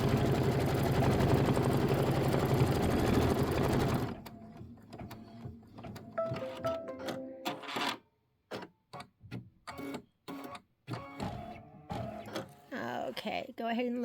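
An embroidery sewing machine runs a placement stitch on fabric, first as a dense steady mechanical whir, then as rapid stitching bursts broken by short pauses, while someone talks over it.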